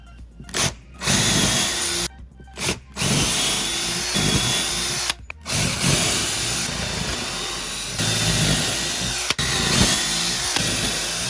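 A power drill countersinking pre-drilled holes in wood for a DeWalt table saw router bench, loud close whirring in repeated long bursts separated by brief pauses, no speech.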